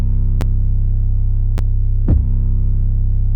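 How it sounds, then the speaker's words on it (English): An 808 bass sample called the piano, from the Magma kit, plays in a trap beat as a loud, sustained deep bass tone with a few sharp clicks and a brief pitch slide partway through. "808 the piano, it sounds like this."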